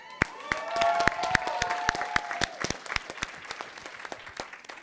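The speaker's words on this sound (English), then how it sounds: "Can we give a round of applause for Mom in the back?" An audience at a conference panel in York, Pennsylvania claps for several seconds, a dense burst of applause with a few whoops near the start that thins out toward the end.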